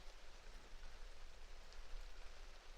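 Soft, even rainfall forms a faint, continuous hiss with no distinct drops or voices, an unbroken wash of noise.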